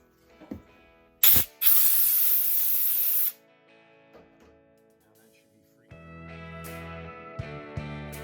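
Compressed air blasts out a transmission part freshly sprayed with brake cleaner: a short puff, then a loud, close, steady hiss of about two seconds that cuts off sharply, followed by quieter shop clatter and a voice.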